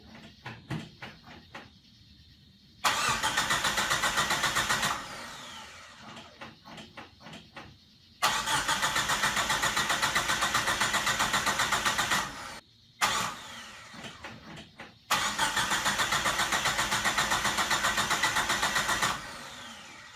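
A swapped 4G63 engine in a Mitsubishi Mighty Max pickup truck cranks in several loud, rapid, rhythmic bursts of two to four seconds each, separated by brief pauses and quieter mechanical clicking, close to the listener.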